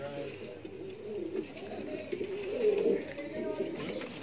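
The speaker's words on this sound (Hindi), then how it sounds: "ये वो नस्लें हैं जिन्हें हम रामपुरी कबूतर कहते हैं" Rampuri pigeons coo in low, throaty, rolling calls that overlap steadily throughout, with a faint murmur of voices in the background.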